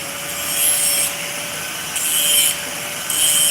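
A power grinder works metal on a 1969 El Camino, a close, harsh abrasive whine that surges in three separate passes with quieter gaps between them.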